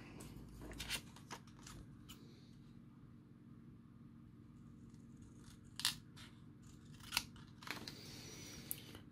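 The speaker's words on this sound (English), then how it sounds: "So let's get our scissors out." Quiet snips of scissors cutting paper come in a few sparse bursts, close by, against a low steady hum with no talking.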